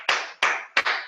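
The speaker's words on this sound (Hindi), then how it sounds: "दोनों हाथ खड़ा करके ऊपर करके एक जोरदार ताली से स्वागत करें" An audience claps in three sharp, evenly spaced bursts to welcome a guest at a training session. Each loud burst fades quickly, and no one speaks.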